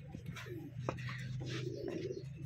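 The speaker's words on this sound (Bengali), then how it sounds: "এখানে আরও ভালো ভালো বেশ কিছু বাজির কবুতর আছে ভাইয়ের কাছে" Racing pigeons at a loft in Rajshahi cooing softly nearby, a few rolling low coos over a faint steady background hum.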